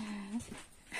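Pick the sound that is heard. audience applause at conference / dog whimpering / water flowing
dog whimpering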